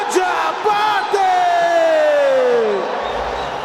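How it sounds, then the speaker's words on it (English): A packed crowd roars and cheers around the cage at an MFN mixed martial arts event as a fighter walks out, a loud sustained swell of yelling with whoops and one long rising-then-falling bellow riding on top. "Just hear the crowd."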